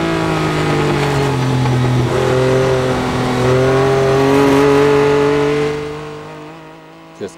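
A Ferrari 246S Dino race car at Goodwood Revival 2003 holds a loud, steady engine drone at speed through a lap, pitch rising and shifting before fading away near the end.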